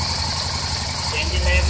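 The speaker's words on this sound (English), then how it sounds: "so I have start the engine and you can see, look," An Aprilia RSV1000RR Factory V-twin motorcycle engine idles close by, just after starting, with a steady, even throb and mechanical rattle at a constant level.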